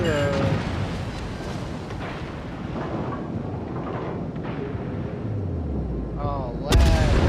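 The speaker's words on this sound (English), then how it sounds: "This ship's secondary guns aren't that good against destroyers like that" Warship secondary guns firing in World of Warships, heavy booming reports with rumbling tails against a cruiser's ambient battle noise, with someone talking over them.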